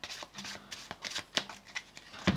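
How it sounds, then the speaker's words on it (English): A spectator shuffles a small packet of playing cards close by, giving a quick series of soft riffling, flicking bursts with short pauses between them. "they're going to give these cards a shuffle"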